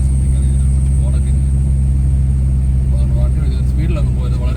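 A car rolls slowly along a forest road near Mannira Waterfalls in Konni, its steady low engine rumble filling the clip continuously and fairly close, with faint speech-like murmurs over it.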